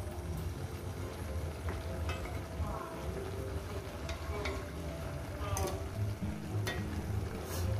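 Fish heads dropped into a hot frying pan for a Bengali vegetable chorchori sizzle steadily in oil, with intermittent stirring scrapes and clinks over the constant frying hiss.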